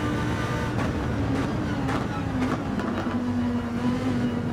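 A race car engine in the video game Ultimate Racing League on the Deep Forest Raceway drones steadily at moderate volume, its pitch dipping and climbing through a gear change.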